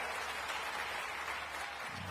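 Crowd applause fills the hall at a school building inauguration ceremony in Banda, Sagar, a steady dense clapping from a large audience throughout, with no talk over it.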